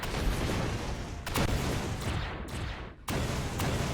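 Missiles strike a ship in the space game Empyrion, a dense rumbling barrage of explosions with several sharp impacts in quick succession and a brief dip before the blasts resume.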